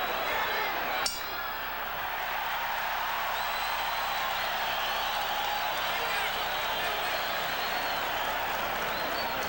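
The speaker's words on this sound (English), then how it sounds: "the crowd begins to heat up as Julio Cesar Chavez turns up the pressure" A boxing crowd at a Julio Cesar Chavez fight roars and applauds steadily throughout, with a sharp clink early on and a commentator talking over the noise.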